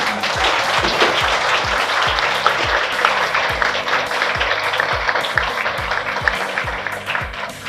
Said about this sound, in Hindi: एक बार सब खड़े होकर के फिर से इन तीनों के लिए एक बार ताली बजाओगे